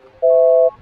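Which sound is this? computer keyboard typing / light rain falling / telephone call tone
telephone call tone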